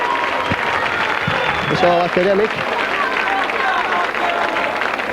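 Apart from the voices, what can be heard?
rugby league crowd applauding Leeds supporters cheering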